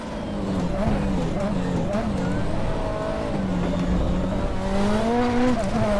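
Four-cylinder turbocharged Nissan Silvia Turbo Group 5 race car of roughly 570 hp in the R3E racing game at Zolder, its engine droning and shifting pitch steadily through the clip while someone talks over it.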